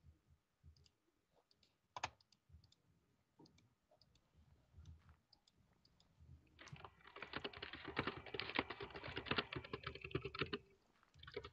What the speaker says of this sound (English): I'm typing loads of mashing stuff.